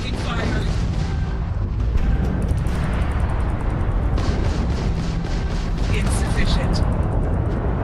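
Heavy gunfire and booming impacts from the video game Starfield roar continuously and loudly throughout, with sharp bursts layered over a dense rumble.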